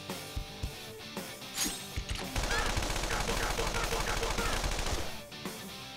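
Rapid gunfire from a battle in the video game Persona 5 Royal, a dense burst of shots sustained for about three seconds after a few scattered sharp hits, loud and close over game sounds.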